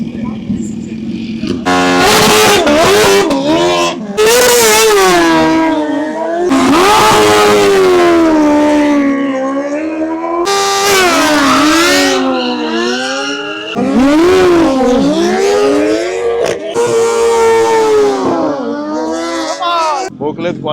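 A Kawasaki motorcycle engine revs hard during race qualification at a drag event, loud and close with repeated rising bursts as it climbs through gears and drops back, several cycles in a row with brief pauses between.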